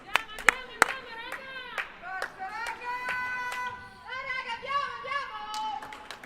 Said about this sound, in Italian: se sentite voci fuori campo sono le ragazze della NG Sport che cercano di caricare le proprie compagne